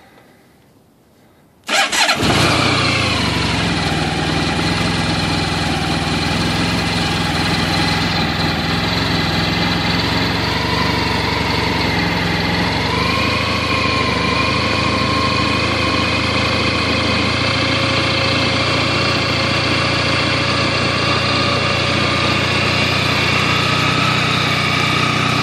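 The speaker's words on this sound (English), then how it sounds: "Engine is ice cold right now, so let me give it a little choke" Cold Honda ST1100 motorcycle on choke: a click, then the engine fires and settles into a loud, steady, close idle that continues without a break, its pitch shifting slightly as the choke-raised revs change.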